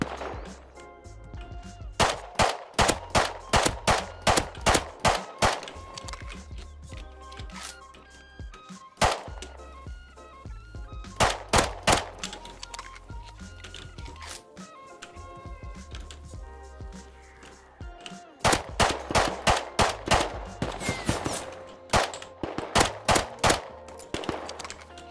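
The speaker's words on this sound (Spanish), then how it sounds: "me estás diciendo que los tiros suenan en el techo" Gunfire in the video game Rust comes in three clusters of rapid, sharp shots with quieter gaps between them, at a moderate level as if from some distance.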